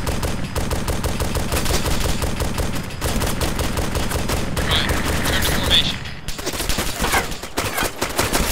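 Dense, loud bursts of enemy gunfire in the Arma 2 military video game, rapid automatic fire rattling almost continuously with a short break near the end, no speech over it.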